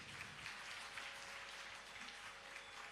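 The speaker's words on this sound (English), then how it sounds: "Request you to give her a warm round of applause." Quiet, steady applause from an audience at a Bharatanatyam arangetram rises after a dancer's piece, a soft continuous patter with no talk over it.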